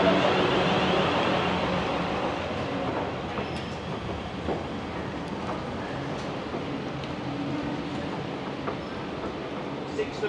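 A train rolls along the rails with a steady rumbling roar and occasional clicks, loud and close throughout, with faint voices mixed in underneath.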